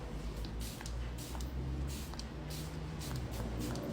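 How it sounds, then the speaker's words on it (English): A d'Alba face mist serum spray bottle gives several short, close hissing spritzes in quick succession. "I'm going to start with the Dialba spray."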